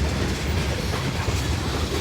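CSX freight train rolling past on the rails in Riverdale, a loud, steady rumble with continuous clickety-clack of wheels close by, no voices.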